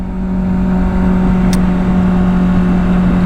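A 2024 Kawasaki Ninja 650 engine runs close and loud with a smooth, steady droning hum, holding an even pitch throughout with no voices.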